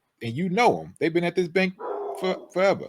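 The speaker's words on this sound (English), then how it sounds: "No, that's my dog." A dog barks and whines briefly in a room while several people keep talking over it during a podcast recording.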